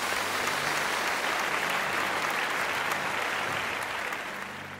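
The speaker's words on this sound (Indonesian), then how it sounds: "Tepuk tangan buat Tuhan kita adik-adik." Children clap together in a dense, sustained round of applause during an online Sunday school worship session, loud and steady for several seconds before tapering off slightly at the end.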